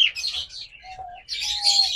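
Caged lovebirds, cockatiels, Australian doves and diamond doves chirp in bright, busy bursts, with a short steady tonal call in the middle, close by and unaccompanied by talk.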